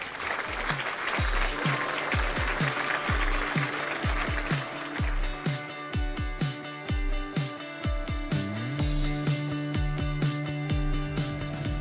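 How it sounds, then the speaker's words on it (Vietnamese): An audience applauding loudly at a charity gift-giving event, a dense patter of clapping that carries on while sustained musical tones rise beneath it. "Vỗ tay thật lớn cho tất cả những tấm lòng vàng thưa quý vị."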